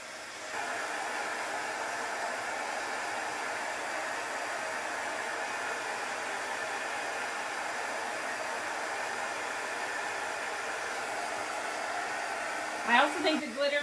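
A heat tool blows a steady, loud whooshing hiss for over ten seconds to dry glitter paste on a Chalk Couture craft project, then cuts off, followed by a few brief clatters.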